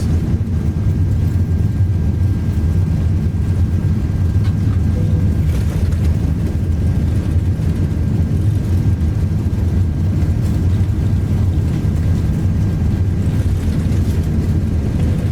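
Steady, loud roar of an Airbus A330-300's jet engines during a takeoff roll in a flight simulator, a dense low rumble holding evenly throughout with no voices over it.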